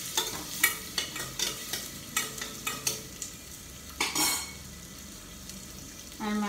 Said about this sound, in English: Now I am adding onion pieces. And fry them well.